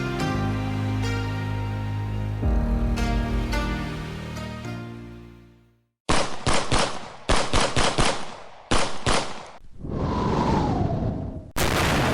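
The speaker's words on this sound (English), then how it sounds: "In the distance you hear the sounds of gunfire and artillery shells" Bursts of distant gunfire and booming artillery shells crackle in rapid clusters over a dense musical backdrop, followed by a rising whoosh and another sharp burst.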